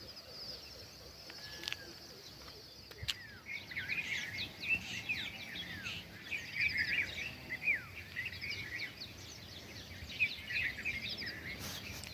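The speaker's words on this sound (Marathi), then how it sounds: "चिमण्यांचा चिवचिवाट कलकलाटमध्ये ही सकाळ उजडली" Many house sparrows chirp and twitter in a busy morning chorus, quick overlapping calls at moderate distance over a soft outdoor background.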